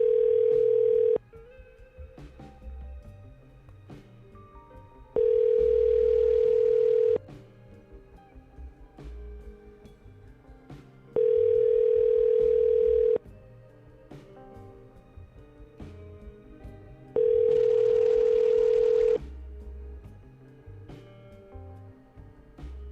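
A telephone call rings out with four long tones, evenly spaced about every six seconds. Quieter background noise fills the gaps between them.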